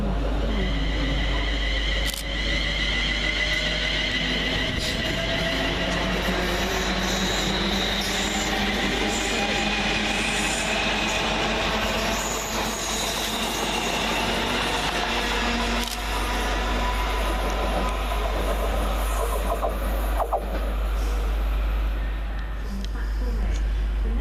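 Two London Northwestern Railway Class 350 electric units pulling out of Watford Junction station on a Tring to London Euston service, a steady loud rumble and rising motor whine with wheel and rail noise, sustained throughout near the platform.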